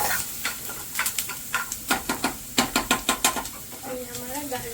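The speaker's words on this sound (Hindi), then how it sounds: "ये हमारा गार्लिक फ्राई हो रहा है।" Garlic fries in butter in a home kitchen pan, with a steady hiss running under repeated sharp scraping and stirring strokes of a utensil against the pan, close and fairly loud, with a faint voice near the end.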